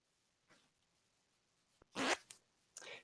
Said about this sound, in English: check out the zipper